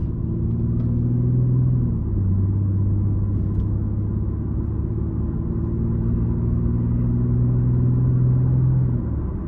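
An Infiniti G37 sedan cruising on a highway from inside the cabin, with a steady low engine drone and road rumble that shifts pitch slightly as it accelerates, no voices.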